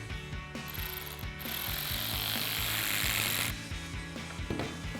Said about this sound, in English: tighten down the clamp using an 8 millimeter socket